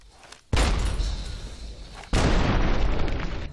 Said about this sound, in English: I just set off 2 explosions in 1 thing.